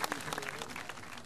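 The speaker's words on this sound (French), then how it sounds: "Applaudissez-le très fort." Audience applause for a minister at a Dakar fashion show, a dense, steady clatter of many clapping hands with a faint crowd murmur beneath.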